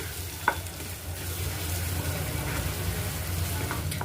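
Raw coconut and tomato chutney is stirred in a pan off the heat, giving a soft continuous crackle and sizzle with an occasional scrape of the spoon, close and steady with no speech.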